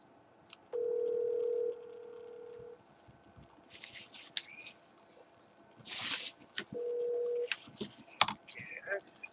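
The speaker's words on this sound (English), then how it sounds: "phone ringing" A telephone call rings out with two long, steady electronic ring tones separated by a pause, fairly loud and clean, with scattered soft clicks and a voice briefly talking between the rings.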